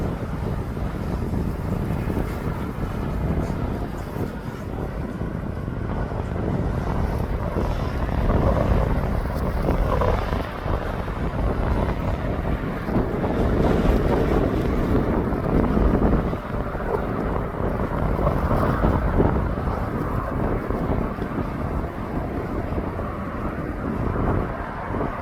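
An aircraft taxiing at East Midlands Airport rumbles in a loud, continuous broadband roar, heavily mixed with gusty wind buffeting the microphone.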